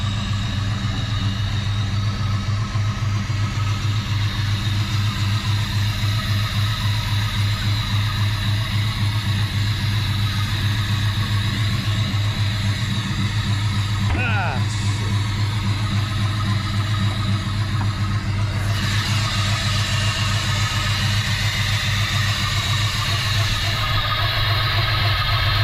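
Chevy Nova fitted with a Holley Sniper EFI idling steadily after a cold start, a continuous low rumbling engine drone that stays even and close for the whole stretch.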